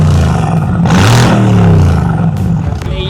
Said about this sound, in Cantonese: 再俾你聽下佢嘅喉聲咯。